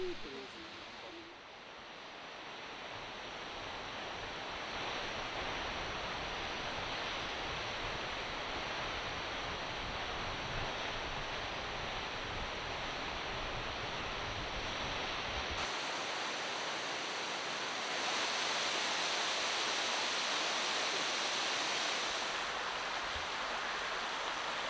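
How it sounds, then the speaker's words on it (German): The Caracol waterfall, a river plunging 131 metres over a basalt edge in Brazil, roars as a dense, steady rush of water heard from some distance, continuous and unbroken for the whole stretch. "Aus 131 Metern Höhe stürzt hier der Fluss über die Basaltkante in die Tiefe."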